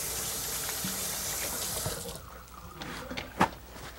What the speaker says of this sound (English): I gotta wash my hands because I don't like gloves.